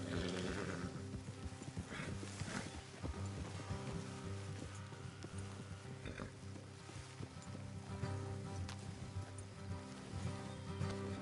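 Steady clip-clop of horse hooves on a hard path in Red Dead Redemption 2, continuous and moderately loud, layered over a busy game soundtrack with music and ambient noise.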